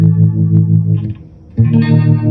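Tremolo from a Hue multi-effect pedal fed by three signals, the input plus lower and upper detuned copies, giving a thick chorus-like pulsing tone that dips briefly near the middle before swelling back in strongly.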